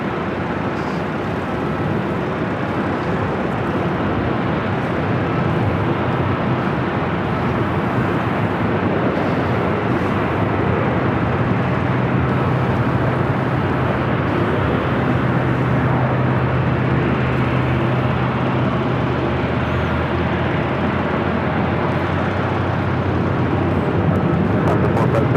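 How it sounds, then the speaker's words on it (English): Lufthansa Boeing 747-8 Intercontinental jet at Los Angeles LAX airport, a steady loud broadband roar of jet engines that holds evenly throughout with wind buffeting, no break or pause. "This is Lufthansa Flight 457 heading back to Frankfurt there in Deutschland. It's a 12-year-old 747-8 Intercontinental."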